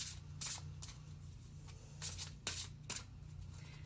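Tarot cards being shuffled by hand in a series of short, soft riffling bursts, close and fairly quiet over a steady low background hum.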